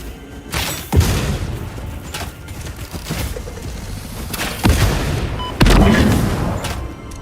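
Exploding rebar bolts fired in the video game Satisfactory, giving loud booming blasts with about three heavy hits spread across the clip over steady background rumble.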